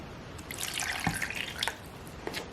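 Water being added to a blender for a cilantro tahini dressing with lemon juice, heard as a soft trickling, dripping pour with a few distinct drops, faint and alone.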